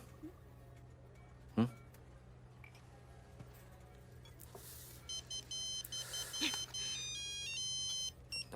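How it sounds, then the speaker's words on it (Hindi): A faint electronic ringtone plays a repeating melodic beep pattern in a quiet room, with a brief thump and soft background murmur before it. "तुम्हारी माँ का फोन है।"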